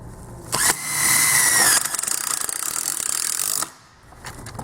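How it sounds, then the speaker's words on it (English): A power drill drives a couple of screws into a wood beam splice joint, a steady loud whirring buzz lasting about three seconds with a ratcheting edge, starting and stopping abruptly. "fire in a couple of screws just to hold the joint tight"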